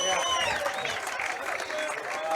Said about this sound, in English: their fans getting loud.